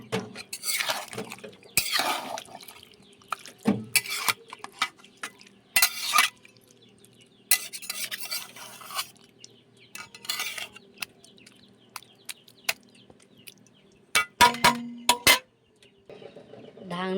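Chicken meat is stirred and browned in a covered pot without added water: intermittent spatula scrapes and clinks against the pot come in short bursts separated by quieter stretches.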